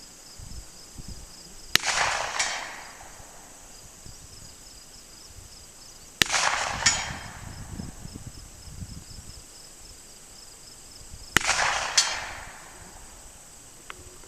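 Hunting revolver firing 158-grain bullets at a 100-yard target outdoors: three loud, sharp reports spaced several seconds apart, each followed by a brief rolling echo, over a faint steady background hiss of insects.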